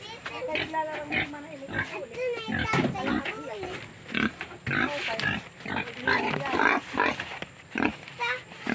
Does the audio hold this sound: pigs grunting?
yes